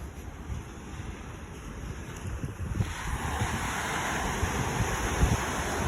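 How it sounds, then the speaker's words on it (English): Calm ocean waves wash steadily against a backdrop of wind buffeting the microphone, a continuous broad rush that swells slightly louder midway, with no voices. "Wow, nice calm ocean today."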